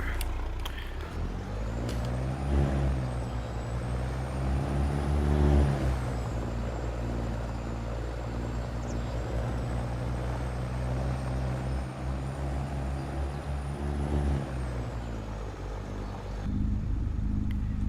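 A semi-trailer truck in Farming Simulator 25 cruises along with a steady, low diesel drone and a faint whining tone, holding a constant pace with a brief swell midway and no talk.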